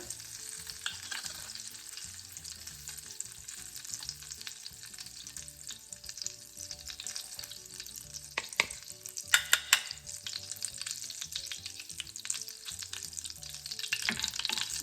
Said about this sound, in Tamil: இந்த பட்டர் எல்லாம் நெய்யோடு சேர்ந்து எல்லாம் கொதிச்சுட்டு